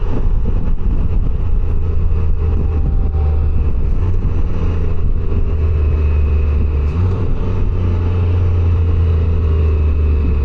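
A 2025 Can-Am Canyon three-wheeled motorcycle engine runs steadily on the move, a continuous low droning hum with constant rumble and wind-like noise throughout, no clear revs standing out.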